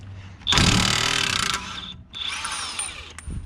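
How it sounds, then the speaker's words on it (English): Cordless impact wrench working on a wheel nut of a 2007 VW Beetle, two loud close bursts of hammering whir separated by a short gap. "but these cordless impacts"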